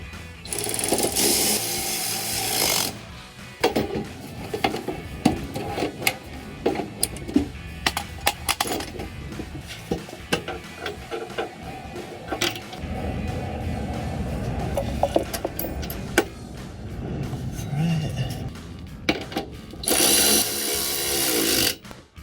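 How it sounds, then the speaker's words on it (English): Electric ratchet tightening the mounting bolts of Barricade tubular drop steps on a 2019-2025 Chevrolet Silverado 1500, heard as repeated loud mechanical whirring bursts with short pauses between them, close to the microphone, with no talk. "you could save some time, use an electric ratchet."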